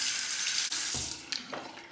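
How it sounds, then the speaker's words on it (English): Cold water runs from a bathroom tap for a rinse after a single-edge razor shave, a steady hissing stream close by with small splashes and changes as hands move under it. "let's do a final rinse with cold water"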